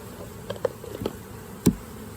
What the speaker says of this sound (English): So the ones that are flying away immediately are not nurse bees.